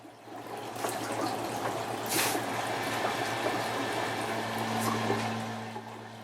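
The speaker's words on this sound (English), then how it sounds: "I test the system by filling the bins with water" Water pouring and splashing steadily as it fills the bins of a fish fry rack, a continuous rushing wash with a low pump-like hum underneath, moderately close and without talk.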